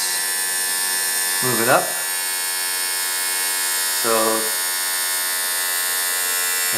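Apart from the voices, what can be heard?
electric brake vacuum pump running, 1983 Rabbit GTI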